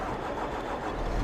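A tractor engine runs in Farming Simulator 22, giving off a steady, loud, broadband mechanical drone. It holds an even level for the whole moment and no voice is heard.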